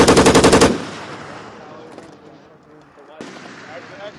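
U.S. Marines firing an M240B machine gun, a loud close burst of rapid evenly spaced shots lasting under a second, then echoing decay and distant shouting voices.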